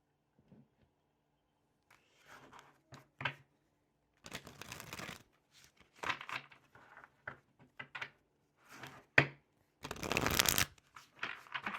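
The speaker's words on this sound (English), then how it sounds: "I feel like I need to shuffle then." Tarot cards are shuffled by hand in several bursts, riffling and snapping up close with short pauses between, the loudest near the end.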